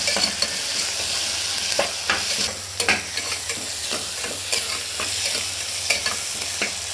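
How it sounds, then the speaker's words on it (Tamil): Tomatoes and curry leaves sauté in a pan with a soft continuous sizzle, while a spoon repeatedly scrapes and knocks against the pan in an uneven stirring rhythm, heard up close. "தக்காளி நல்லா வெந்து வர அளவில் நல்லா வதக்கிக்கணும்."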